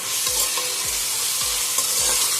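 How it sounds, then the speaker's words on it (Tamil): A handful of mint and coriander leaves is sautéed for Chennai-style chicken biryani, a steady close sizzle with four evenly spaced scraping stirs of the spoon against the pan, no voices. "புதினா கொத்தமல்லி போட்டு நல்லா வதக்கிட்டு நல்லா வதக்கிட்டு"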